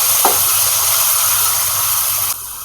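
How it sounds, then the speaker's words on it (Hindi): Chicken with yogurt, ginger-garlic paste, ghee and spices frying in a pot for a chicken cabbage handi, giving a loud, steady hiss and sizzle close up that drops off sharply near the end. "अब इसको थोड़ा भून लेते हैं।"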